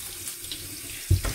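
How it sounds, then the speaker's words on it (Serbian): Pig trotters rinsed under a running kitchen tap, a steady hiss of flowing water that turns into a fuller splash as the water strikes the meat near the end, close and unaccompanied by talk. "Ovdje imamo papak koji ćemo da operemo"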